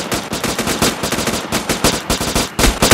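Rapid automatic gunfire in the online shooter Next Day, loud and close, with dense repeated bursts of shots and a short pause before a final heavy volley.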